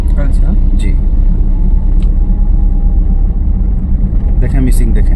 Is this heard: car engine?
yes